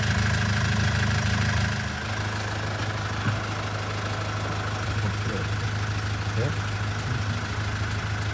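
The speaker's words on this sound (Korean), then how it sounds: "지금 차량 시동을 껐고요" Car engine idling with a low steady hum, then switched off after about two seconds, leaving quieter background noise with faint clicks, heard close by.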